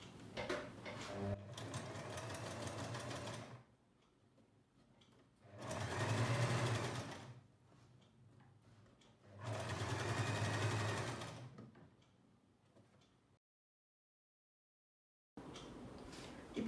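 A sewing machine stitches the folded neck piece of a churidar in three sustained runs of steady mechanical whirring, close and clear, separated by quiet pauses, with a final short burst at the end.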